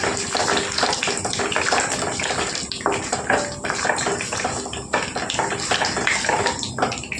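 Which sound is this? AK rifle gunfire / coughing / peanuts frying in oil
peanuts frying in oil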